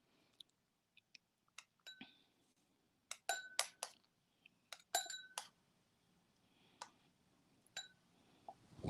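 A spoon works cocoa powder and a little milk into a paste in a mug or glass, giving scattered light clinks and taps with short pauses between them, close by and fairly quiet, with no talking.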